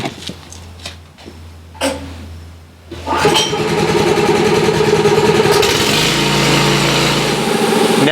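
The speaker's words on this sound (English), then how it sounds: "Fire up the compressor" An air compressor for a DIY wet-blasting steel setup starts up after some clicks and handling, then runs with a loud, steady mechanical drone that shifts slightly in pitch near the end.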